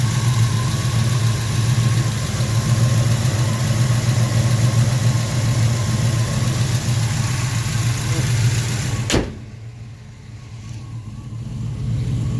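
A 1979 Chevrolet Scottsdale pickup with a new exhaust idles close by in a loud, steady rumble that drops away abruptly near the end.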